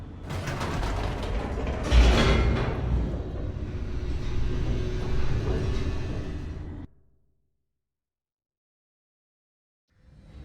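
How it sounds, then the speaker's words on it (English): A mechanical elevator descends in the video game The Stanley Parable, a steady grinding, creaking mechanism with ratcheting gear texture lasting several seconds, loud and close, then cutting off abruptly into silence before a faint return at the end. "The elevator raced downward, plummeting towards an unknown fate."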